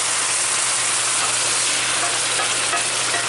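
Balsamic vinegar sizzles in melted butter in a pan over medium heat, a loud, steady broadband hiss and crackle that holds unbroken throughout with no voices.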